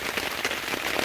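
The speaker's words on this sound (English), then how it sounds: "It's raining. A lot." Heavy rain pours steadily on a tent pitched on a cliff in southern Illinois, a dense continuous hiss with scattered drop impacts, close and loud throughout with no voices.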